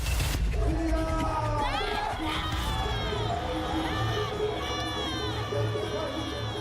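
A crowd at Pandokhar Dham with several people shouting and wailing loudly over a dense babble of voices and a low rumble, sustained and close.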